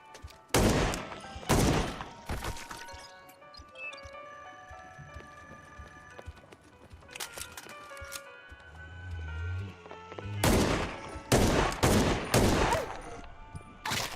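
Bursts of gunfire in a video game shooter: several sharp, loud volleys of shots early, a few isolated cracks in the middle, then a dense cluster of rapid shots near the end, with quieter game ambience between.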